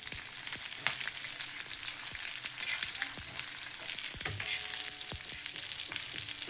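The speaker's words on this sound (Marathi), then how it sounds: "मसाला भाजायला आता तेल टाकायचं. आता थोडा फुल गॅस करायचा." Masala sizzling and frying in plenty of oil over a full gas flame, a dense continuous crackle with scattered sharp pops and a few clinks of a stirring spoon.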